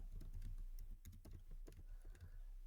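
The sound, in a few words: typing on a computer keyboard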